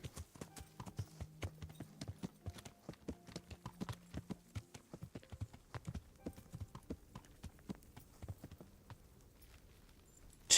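Horse hooves clip-clop steadily on the ground as a rider travels in the video game Kingdom Come: Deliverance, an even, close rhythm of hoofbeats with no talk.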